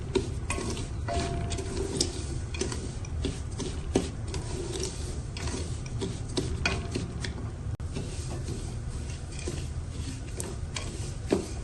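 Wheat daliya being stirred and dry-roasted in a pan, a steady close scraping and rasping of grains against metal with faint sizzle, continuous throughout with occasional louder knocks of the spoon.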